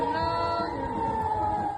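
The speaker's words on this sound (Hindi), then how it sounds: "उत्तरी इजराइल में सायरन बज रहे हैं इसी वजह से क्योंकि यहां पर हमले का अलर्ट जारी किया गया है।" An air raid warning siren sounds in northern Israel, a steady sustained wailing tone heard at moderate distance.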